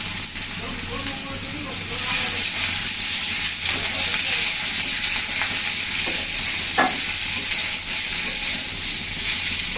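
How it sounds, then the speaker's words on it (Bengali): Bitter gourd and potato pieces fry in hot oil in a kadai, a steady dense sizzle with occasional stirring scrapes and a sharper crackle near the end, close up and continuous. "আগে আমি উচ্ছে আলুগুলো ভেজে নেব"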